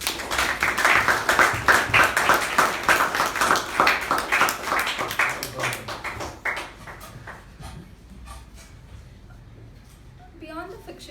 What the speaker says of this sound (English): With a huge round of applause, please help me welcome Toastmasters again.